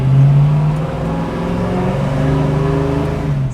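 A 1965 Ford Mustang engine accelerates loudly on a test drive, close and powerful with a rising, sustained drone that holds strong for several seconds before easing slightly.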